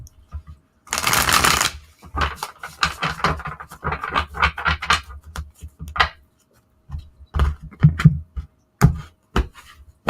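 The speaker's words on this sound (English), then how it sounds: "One more shuffle." Tarot cards are shuffled by hand near the microphone, opening with a loud riffle burst and continuing as a run of quick flicks, taps and soft slides in uneven rhythm.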